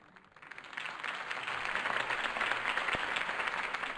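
A crowd's applause after a Harvey Dent campaign speech swells from quiet to a full, steady roar of clapping, heard alone at moderate distance.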